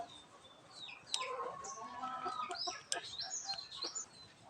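Chickens cluck and chirp over a soft background hiss, with a couple of sharp louder calls standing out; no one speaks.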